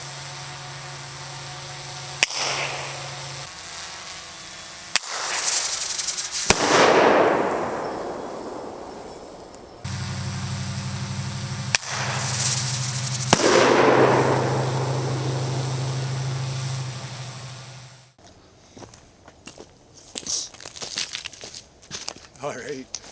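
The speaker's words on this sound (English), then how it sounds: "So I fired off both the flare and the banger" A bear banger and a flare fired into the air outdoors: sharp launch pops, each followed by a loud burst and a long hissing, crackling trail, repeated twice, with voices talking between.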